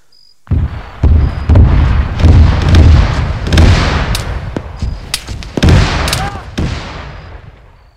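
Heavy gunfire and explosive booms from a military shooter game, in a search-and-rescue operation where the player is under close fire; loud, dense bursts and sharp cracks continue over about seven seconds with faint voices mixed in.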